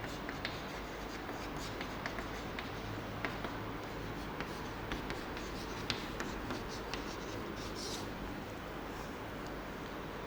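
Steady scratching of writing on a board during a mathematics lesson, continuous strokes with small taps, no talking.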